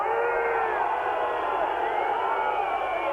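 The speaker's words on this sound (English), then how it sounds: "Crowd's getting a bit upset here." A partisan rugby league crowd at a Kiwis versus France test match, a dense continuous roar of voices with shouts and jeers rising and falling, loud and unbroken throughout.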